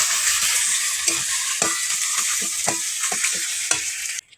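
Ground kharkol leaf paste fries in a hot pan with a steady, loud sizzle, while a utensil scrapes and stirs it in regular strokes, with no voices.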